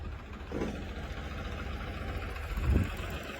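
A tractor engine idles at a steady low rumble in a rural farming setting, with a couple of slightly louder surges near the end and no speech over it.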